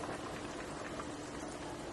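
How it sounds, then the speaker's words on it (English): Lima beans boil in a pot on the stove, a steady close bubbling and hiss that carries on evenly without talk. "Okay, so now that they're boiling, I'm just going to lower this"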